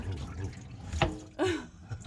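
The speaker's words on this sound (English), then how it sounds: "there was still water in the tank. And it came out not the way we expected." Leftover water spills out of a tank inside a boat in a few quiet splashing and dripping bursts, faint and close, with a brief rushing gurgle partway through.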